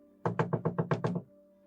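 Someone knocks on a door seven times in a quick, even sequence. The knocks are close, hollow and firm, set against a quiet indoor hum, and no voices are heard.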